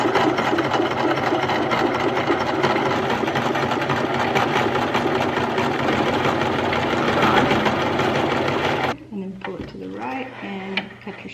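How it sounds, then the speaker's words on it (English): Sewing machine stitching a folded fabric hem on a book sleeve: a continuous, fast mechanical whirring and clatter running steadily for several seconds before stopping abruptly, followed by quieter handling noises and a voice. "So this is the first thing I'm sewing, so hopefully it goes okay."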